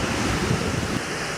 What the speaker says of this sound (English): Well, here I am on the beach